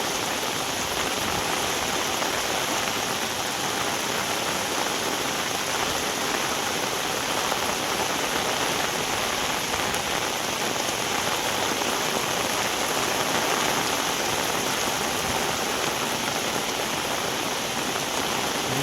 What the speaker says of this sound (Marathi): जोरदार असा पाऊस पडतोय